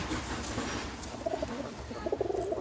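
Rajshahi Giribaj pigeons, a male and a female, cooing at close range with soft repeated warbling coos that grow busier toward the end over a steady background hiss.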